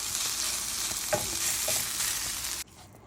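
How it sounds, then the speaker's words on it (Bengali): Jute leaves frying with onion and garlic in a pan give a steady, close, loud sizzle with a few stirring scrapes, then the sizzle drops away sharply near the end. No one speaks. "আমার শাকটা একদম ভাজা হয়ে গেছে, আর ভাজার পরে একদমই কমে গেছে।"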